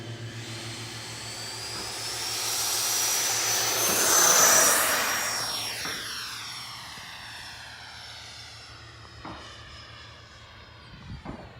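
A custom Freewing 90mm F-4 RC jet with a ducted fan makes a rising, screaming whine as it sweeps past. It peaks loudest midway, then falls in pitch and fades into the distance over a steady low drone.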